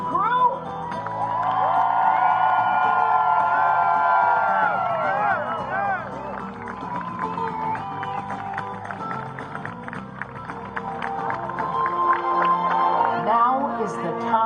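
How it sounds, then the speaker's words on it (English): Crowd at the San Diego closing ceremony of the Susan G. Komen 3-Day 60-mile walk cheering for the walk crew, a loud sustained roar of shouts and whoops with scattered high yells that swells again toward the end. "So let's return the favor now with a big cheer."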